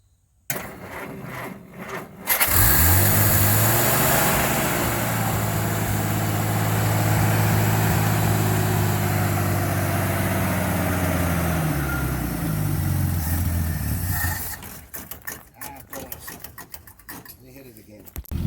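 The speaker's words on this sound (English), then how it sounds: "favorite engine, the Flathead 6, ready for action" Old car's Flathead 6 engine cranks and catches after a quiet start, then settles into a steady, loud, close idle that runs for about ten seconds before cutting off, with faint clicks and handling noises after.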